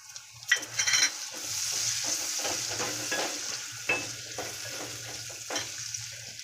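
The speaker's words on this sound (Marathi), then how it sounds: "वाटाणे पण जरा तेलामध्ये फ्राय करून घेऊया" Green peas fry in oil with spiced masala in a pan for palak paneer, a steady soft sizzle under repeated spoon stirs and scrapes, with a few louder knocks against the pan.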